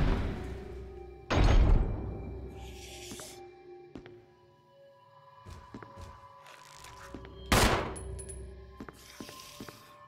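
Gunfire in the video game Resident Evil HD Remaster: two loud, sharp shots several seconds apart, each with a booming decay, amid quieter clicks and thuds, with no talking.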